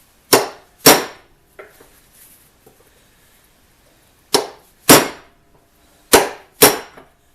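Sharp metallic hammer taps on an Armstrong-Blum Marvel rod cutter to drive a part out, landing in close pairs of loud ringing clanks separated by quiet pauses, with faint handling noises in between.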